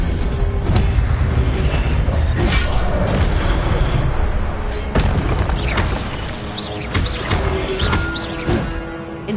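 Spell casting in Hogwarts Legacy brings loud booming bursts and crackling impacts, several heavy thuds spaced irregularly over a rumbling, fiery bed that fades somewhat toward the end.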